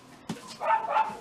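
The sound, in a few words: neighbours' dogs barking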